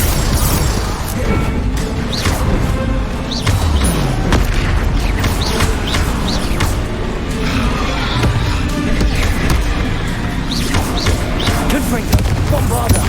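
Confringo and Bombarda spells go off in a Hogwarts Legacy battle, making repeated loud blasts and crashing impacts over dense, busy combat noise.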